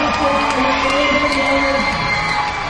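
A large arena crowd at the 2007 MLG Las Vegas National Championships final cheers and whoops loudly and steadily for the teams, a dense, continuous roar with shouts rising out of it.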